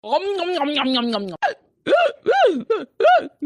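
A woman hiccups in a string of short, sharp vocal jerks that come in quick succession after a stretch of her own voice, close and fairly loud in a comedy scene.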